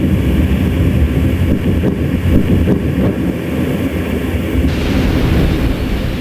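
Time-compressed infrasound recording of a space shuttle breaking up, played as a loud, continuous low rumble with rolling bursts and a deep hollow thud toward the end.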